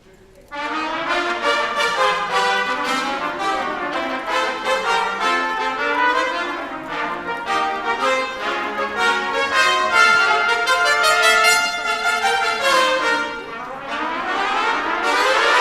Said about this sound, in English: Then we have trumpets.